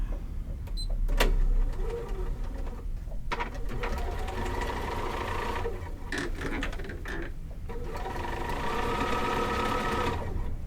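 Sewing machine back stitching a seam on a ruffled pillowcase, a close, steady mechanical whirr and rapid patter of the needle running through with short pauses and restarts.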